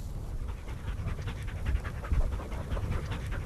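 Hunting dogs pant rapidly and heavily close by, a rhythmic huffing breath that continues throughout with no voices.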